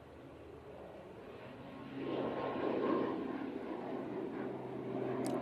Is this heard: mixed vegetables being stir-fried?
no